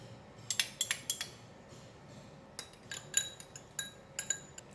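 A spoon clinks against a bowl in short quick bursts while sesame oil, Chinese rice wine, light soy sauce and oyster sauce are mixed, the light metallic taps coming in two clusters close up.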